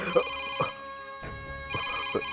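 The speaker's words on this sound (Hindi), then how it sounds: "सीता, ये माँ का ही फोन है। मेरी माँ ने मुझे फोन किया है" A telephone rings in a Hindi-dubbed action film. The steady electronic ringtone plays under a voice and a few soft knocks.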